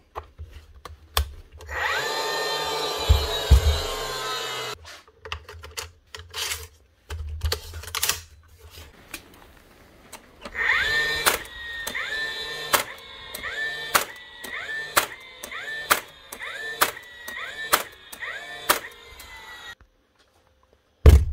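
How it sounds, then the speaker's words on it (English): Dewalt cordless second fix nail gun, repaired with a new firing pin, test fired repeatedly: a whirring motor spin-up followed by a series of sharp, evenly spaced clacks, close and alone. "Another Dewalt second fix gun up and running again."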